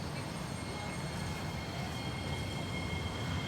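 A train rumbles steadily near an MRT station at Amokyo Park, a continuous low, broadband roar with a faint high whine, and no voices over it.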